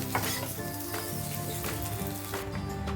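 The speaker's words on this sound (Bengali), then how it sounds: "ভেন্ডিটাও ফ্রাই হয়ে গেছে দেখুন এভাবেই করে ফ্রাই করে নিতে হবে" Okra and potato fry in a hot pan for a dry ladies-finger and potato dish, a steady close sizzle and crackle of oil with occasional stirring scrapes, no voices.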